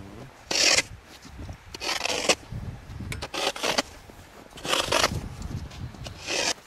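A hand saw cutting a hole through ice rasps back and forth in uneven strokes, several loud scraping pulls separated by brief pauses, close by.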